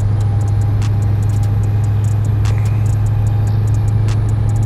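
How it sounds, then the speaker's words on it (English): A simulated Scania truck engine from a Euro Truck Simulator 2 sound mod drones steadily at a low, even pitch throughout, with faint ticking on top and no talk. "The other background noise you hear is the Euro Truck Simulator mod of the truck noises"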